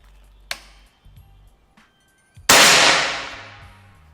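A Bocap Bogel Premium PCP air rifle fires one sharp, loud crack that rings out and fades over a second and a half, preceded by a few small clicks and taps from handling.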